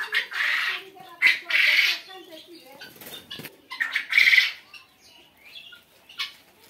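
Quail at a quail farm in Bakshiganj, Jamalpur, kept in several colour varieties, give bursts of sharp, squeaky calls in repeated clusters, fairly close, with rustling and scuffling between calls.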